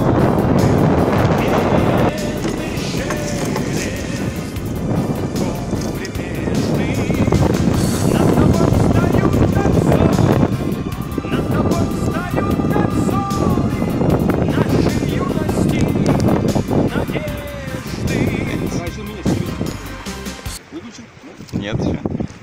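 Strong wind buffets the microphone while waves slap against a moving boat, with people talking over the rough, continuous noise of open water.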